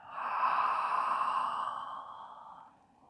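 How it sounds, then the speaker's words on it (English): One deep, slow breath drawn in during an ankle rehab exercise session, a soft airy rush close to the microphone that swells and then fades over about three seconds. "We're going to take the breath in"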